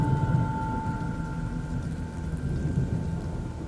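A thunderstorm with lightning in the video game Oknytt rumbles low and steady under soft rain, with faint tonal game ambience above and no talking.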